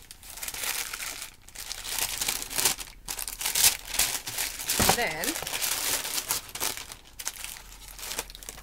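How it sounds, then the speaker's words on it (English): Tissue paper crinkles and rustles loudly and continuously up close as stationery is unwrapped, with brief tearing sounds and someone speaking softly over it. "So it's all wrapped up in tissue paper."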